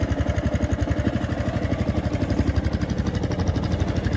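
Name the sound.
Honda Big Ruckus PS-250 scooter engine idling after cold start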